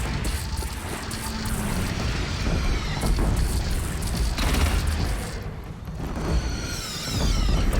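Bombs explode during a battle in the video game Horizon Zero Dawn, a dense run of booming blasts and crackling bursts with a heavy low rumble that swells and fades several times, loud and continuous with no talking.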